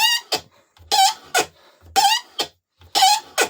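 A chair-making taper reamer cuts into wood to shape a hole for a lyre tuning peg, giving repeated loud, high-pitched squeals in a rhythmic series of about eight strokes, each squeak short and close.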